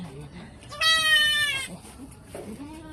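A goat bleats once, a loud, clear, drawn-out cry lasting under a second, during a birth on a farm, with faint voices murmuring nearby.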